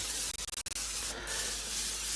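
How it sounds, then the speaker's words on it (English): A can of non-stick cooking spray hisses in a steady continuous burst onto dehydrator trays laid out for making ground deer jerky, close and loud with a few brief sputters at the start. "I'm going to hit them with a little non-stick."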